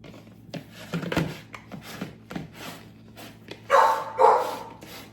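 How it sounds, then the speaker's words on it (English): A puppy in her kennel yips and barks in scattered bursts, with a couple of louder, higher whining barks near the end, somewhat muffled and moderately close. "Sorry about the puppy. She's in her kennel."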